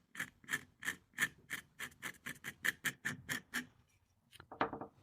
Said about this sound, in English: the next tool I'm going to use is my domed chisel